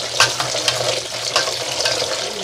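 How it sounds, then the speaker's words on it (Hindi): Vermicelli is stirred with a spoon under cold running water in a home kitchen sink, a steady rushing stream with light irregular clatters and swishes throughout. "ऐसे चम्मच से हिलाते हैं।"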